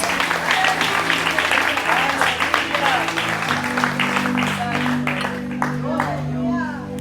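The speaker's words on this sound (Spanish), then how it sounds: "¿Cuánto le pueden dar otro aplauso a Dios?" Church congregation clapping in praise during a service, sharp dense hand claps over sustained music and voices that continue underneath.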